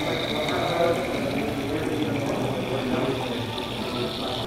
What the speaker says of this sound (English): And now you should be able to actually pour some nitro cold brew.